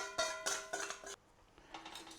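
Metal whisk scraping and clinking against a pan while stirring gluten-free white sauce: quick rhythmic metallic rattles in short bursts, close and fairly quiet, with a brief pause before a lighter run of clinks.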